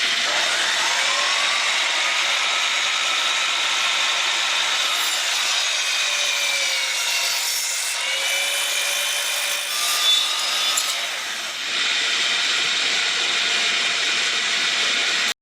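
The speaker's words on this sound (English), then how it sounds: "I next cut the horizontal trim piece by making a 2-degree bevel cut in another block of cedar" A power saw makes a 2-degree bevel cut through a 9-inch block of cedar, a loud, steady, high-pitched whine lasting about fifteen seconds with slight shifts in pitch as the blade works through the wood, then stopping abruptly.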